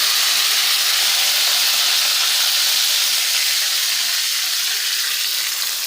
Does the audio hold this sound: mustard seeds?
yes